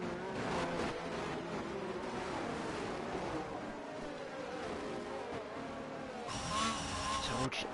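Race cars in the F1 22 video game lining up for a restart at Monza, engines droning loud and steady throughout, with a brighter surge of revving near the end.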